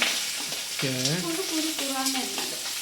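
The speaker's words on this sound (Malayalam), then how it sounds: "സ്ലൈസ് ചെയ്ത് വെച്ച ഒനിയൻ ആദ്യം ഇടുകയാണ്" Sliced onions frying in a pan give a steady, close sizzling hiss throughout, with a brief tonal squeal rising over it near the middle.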